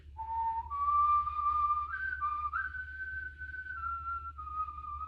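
A single person whistles the melody of Amazing Grace alone, a clear sustained tune with smooth rising and gliding notes and no speech.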